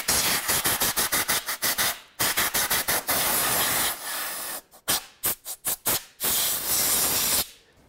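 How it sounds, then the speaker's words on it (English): Compressed air blasts debris off a 2002-06 Toyota Camry engine in a rapid string of short, loud hissing bursts, followed by longer sustained blows and more quick pulses, with no talk. "Before I take anything apart, I'm going to go ahead and blow all the debris off that is here."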